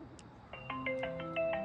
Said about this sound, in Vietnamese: anh đi nghe điện thoại chút nha